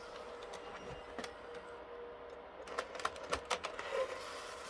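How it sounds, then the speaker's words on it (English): A PS3 disc drive grinds as the disc ejects, faint mechanical whirring with a cluster of small rattling clicks near the end, quiet and close with no talking. "Oh, you can hear it grinding as it comes out."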